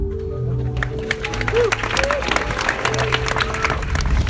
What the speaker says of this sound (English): Please give a round of applause for our head of research, Professor Wolfgang Kunstmann.